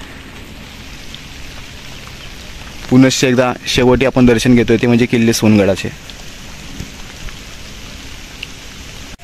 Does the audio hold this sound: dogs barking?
no